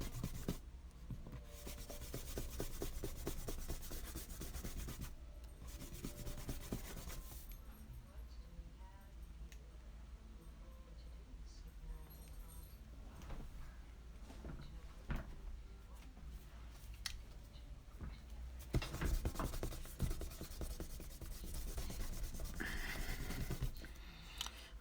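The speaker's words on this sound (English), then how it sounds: "Go ahead and take the kneaded eraser, kind of clean all this up." A kneaded eraser rubs over a graphite pencil drawing, making faint, close, scratchy rubbing strokes in uneven bursts with short pauses between them.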